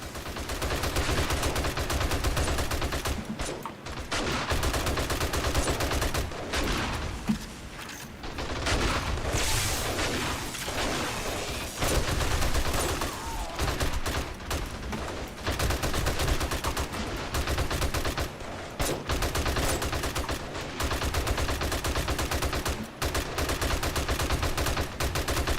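Sustained 7.62 rifle fire in the survival game 7 Days to Die, rapid repeated loud shots in long bursts with brief pauses, near and dominant throughout.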